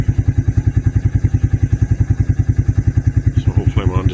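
A motorcycle engine idles steadily and close by, its even putter repeating rhythmically throughout, with a faint clatter toward the end; the bike had a carburetor fuel problem.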